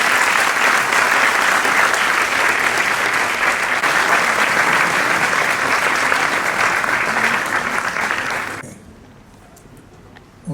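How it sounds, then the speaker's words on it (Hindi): Loud, sustained applause fills a room at a press conference, a thick steady roar of clapping that holds for about eight seconds and then drops away abruptly into quiet. "तो इनके लिए ज़ोरदार ताली बजा दीजिए।"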